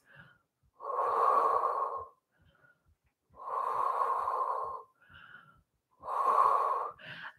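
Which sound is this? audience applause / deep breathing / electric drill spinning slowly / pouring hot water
deep breathing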